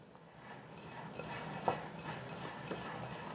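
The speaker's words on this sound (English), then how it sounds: "Just typical dry mixing of ingredients." Flour and spices being dry-mixed in a bowl for pfeffernüsse cookie dough, soft continuous scraping and rubbing with occasional light clinks of a utensil against the bowl, close and quiet.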